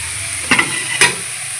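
Drumstick flowers and onion fry in a pan with a steady close sizzle, broken by two distinct stirring clatters about half a second apart.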